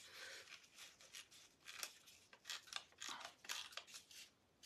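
Paper being snipped with scissors while trimming a hole for a vintage shabby chic clock makeover; a quiet, close, steady run of crisp snips and rustles with no talking.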